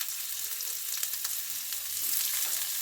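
Finely chopped onions hiss and sizzle in hot oil while cooking sea fish, a continuous bright crackle at moderate volume, a little louder near the end, with no one speaking.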